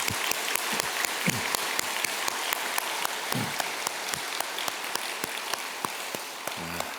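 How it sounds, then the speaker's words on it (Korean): A church congregation at an early-morning service claps warmly and continuously, with a few sharper individual claps standing out and brief low voices in the background. "뜨거운 박수로 다시 한번 축복하겠습니다"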